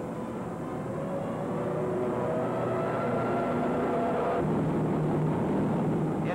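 Early fighter plane engines drone in flight, a steady loud propeller hum with layered tonal whines that shift pitch as the aircraft pass, with no talk.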